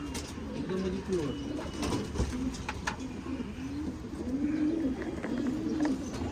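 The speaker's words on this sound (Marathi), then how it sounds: "प्युअर हुमर कबूतर बघा आता" Several homer pigeons coo in soft, low, rolling calls, overlapping close by, with faint chirps and scattered clicks in the background.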